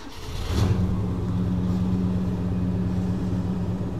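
A 1968 Ford LTD Brougham with a 390 V8 and Flowmaster exhaust idles after starting, a steady low rumble with a deep exhaust drone that holds evenly throughout, close by and with no talking.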